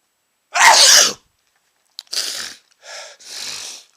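A person sneezes several times in a row, with one loud, full sneeze followed by a cluster of shorter sneezes and snorts close to the microphone, and no speech.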